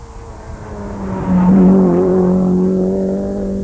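A Talbot Sunbeam rally car with no rear window, competing in the Cork 20 Rally, approaches and passes with a rising engine drone that peaks loudly midway, then holds a steady revving note as it moves on.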